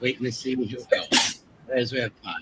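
A single sharp sneeze bursts out in the middle of conversation, with people talking before and after it.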